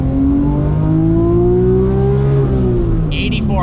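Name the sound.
Porsche 911 GT3 RS exhaust revving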